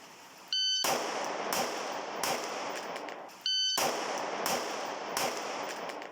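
On a bowling lane, a ball strikes the pins with sharp cracking impacts and clattering decays, several hits in a row that repeat in two similar bursts, fairly near.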